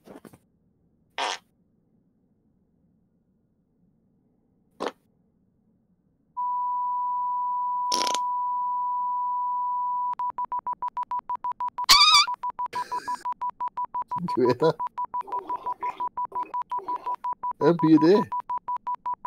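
A GoXLR audio mixer sounds a steady, continuous beep tone that carries on for several seconds and then keeps sounding under people chatting, with a few short clicks and bumps before it starts.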